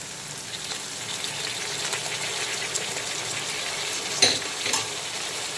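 Chopped spring onion, carrot and peas fry in oil in a wok with a steady, even hiss, then one or two brief metallic scrapes of a spatula near the end.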